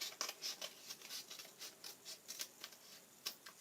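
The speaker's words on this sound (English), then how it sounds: "So I'm just going to cut out some leaves." Wonky scissors snip out small paper leaves for a paper pumpkin craft, giving a quiet run of short crisp cuts in an irregular rhythm, close up and faint, with no talking.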